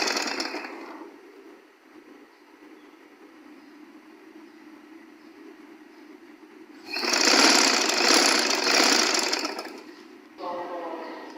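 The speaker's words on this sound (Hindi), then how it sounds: "और फिर दोबारा किनारों से सिलाई लगा लेनी है।" A sewing machine runs a stitch along the folded hem of a baby girl's frock, a steady mechanical whir that quiets after a second, then surges loud for several seconds before stopping and briefly restarting.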